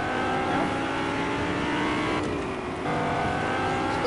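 A car in a PS4 game drives steadily with a continuous engine drone and a slight pitch dip midway, loud and even, with no voices over it.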